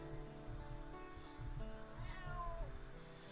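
A cat meows inside the video game Simulacrum, a few faint drawn-out cries over a steady, droning game background.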